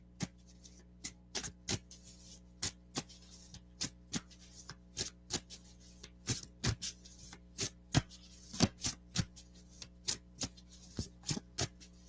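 A deck of cards is shuffled by hand in a quiet room, a long run of crisp, irregular riffling snaps and soft slaps, close and fairly faint over a low steady hum, with no talking.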